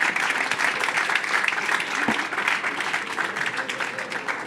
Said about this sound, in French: Donc, on peut vraiment vous applaudir.